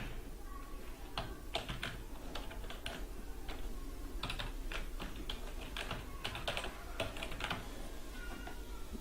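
Rapid typing of an email address on a computer keyboard, close and clear, with irregular bursts of crisp key clicks and short pauses between groups of keystrokes over a low room hum.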